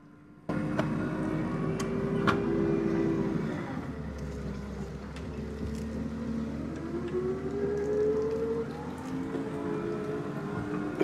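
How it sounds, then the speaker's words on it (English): A forklift truck driven from inside a carbon fibre exoskeleton gives a steady engine drone that rises and falls in pitch, with a low rumble joining midway and a few sharp mechanical clicks, fairly close and continuous without talk. "I thought I'd go with a fork truck as the first test"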